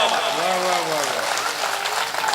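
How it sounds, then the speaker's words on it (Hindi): Applause from the crowd at an all-India mushaira poetry gathering in Raebareli, a loud continuous wash of clapping with a voice carrying over it at the start. "एक बार जोरदार तालियां बजा"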